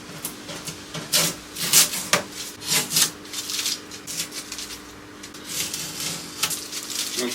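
Old veneer is pulled off a wooden Art Deco vanity in irregular, close rasping scrapes and short tearing bursts, with quieter pauses between strokes and no talking.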